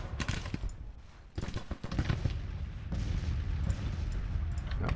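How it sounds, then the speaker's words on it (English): Cannon fire in Grand Tactician: The Civil War, with dense overlapping booms and crackling volleys from a Civil War battle, loud and continuous throughout with a brief dip near the middle. "Are we firing on the enemy cannons?"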